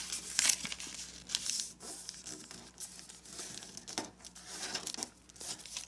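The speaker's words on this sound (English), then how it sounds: "let's fold this edge to the crease" A sheet of paper being folded for an origami maze crinkles and rustles close by, with a few sharper creasing crackles amid steady soft handling.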